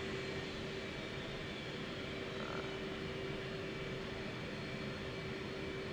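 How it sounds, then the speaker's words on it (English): An F/A-18's auxiliary power unit in the DCS flight simulator game gives a continuous, even engine drone with a steady whining tone, loud and unbroken with no other sounds. "So that's the APU shutting down."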